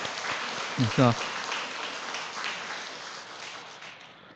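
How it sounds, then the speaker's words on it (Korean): A church congregation applauds at a Sunday morning service to bless a baby on its 100th day. A voice speaks briefly at the start, then a broad wash of clapping carries on and fades. "우리 저 뒤에 하민이 있는데 우리 축복하며 박수 한번 쳐주시오"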